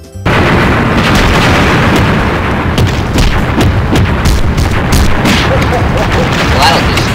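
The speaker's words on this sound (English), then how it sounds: "Gonna explode. Explode the doll." A doll blown up in the video game I Want You Dead, Santa gives a loud, sustained, crackling blast of game explosion noise that fills the whole stretch without pause.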